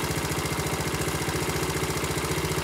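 A minibike's small engine idles steadily just after its choke is switched off, a close, continuous putter with a fast, even pulse and no voices over it.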